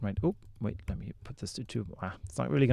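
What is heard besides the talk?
None of the usual background noises is heard.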